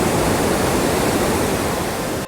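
The Bhatinda waterfall near Dhanbad, Jharkhand roars as a broad, continuous rush of falling water, loud and close, with no voices over it until it cuts off at the end.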